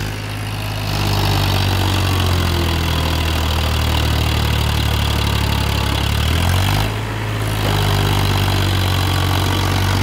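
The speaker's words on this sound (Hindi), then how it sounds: "2000 ईंटा भर के ट्रैक्टर चढ़ गई" A Powertrac 42 HP tractor loaded with 2000 bricks labors uphill, its engine droning loud and close without pause, with a brief dip in pitch and load about two-thirds through before the drone settles back.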